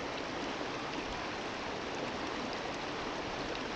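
Cool river water flows steadily at Red Bridge, a close, constant broadband rush and wash with no breaks and no voices.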